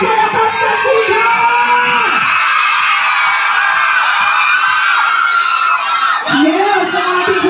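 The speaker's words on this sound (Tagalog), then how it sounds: "Isa ba ang malakas na sigaw?" A large crowd at the Alitagtag Flower Festival in Batangas shouts and cheers loudly and continuously, with whoops and screams rising and falling throughout.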